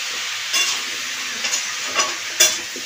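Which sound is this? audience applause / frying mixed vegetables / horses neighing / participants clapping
frying mixed vegetables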